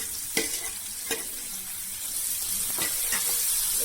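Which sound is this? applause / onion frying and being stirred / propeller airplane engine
onion frying and being stirred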